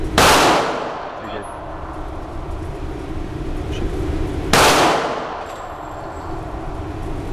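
Two loud, close gunshots fired at a shooting range, several seconds apart, each a sharp crack followed by a long ringing decay. No one talks.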